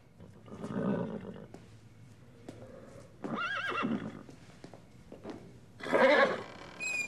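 A pack horse neighs and whinnies in several separate bursts, the last one loudest and shrillest, with faint hoof shuffling between the calls.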